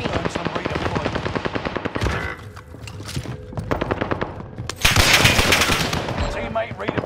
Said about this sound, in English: Those bastards are shooting at me!